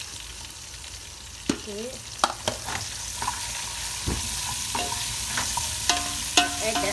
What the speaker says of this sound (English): Now I'm adding in the onion.